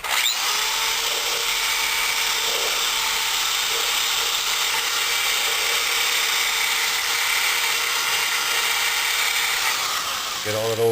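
A power tool grinds steadily on a cylinder head, scrubbing off old gasket material to leave a clean surface. The whine runs continuously and loud through the whole stretch, with a brief shift in pitch near the end.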